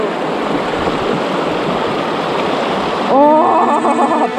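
River water rushes and churns steadily in a forest near Sochi, a loud broadband flow that continues throughout, with a brief tonal sound near the end.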